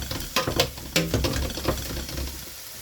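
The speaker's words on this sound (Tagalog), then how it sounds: "Saingin natin yung kamatis" Tomatoes sautéing in a pan for pork sinigang: a light sizzle under irregular scrapes and knocks of a spatula stirring, close up, fading toward the end, with no talking.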